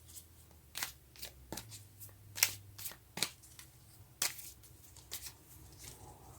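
Tarot cards are shuffled and handled near the mic. There is a run of soft, irregular riffles, snaps and slides with quiet gaps between them.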